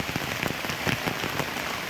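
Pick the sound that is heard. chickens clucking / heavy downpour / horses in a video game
heavy downpour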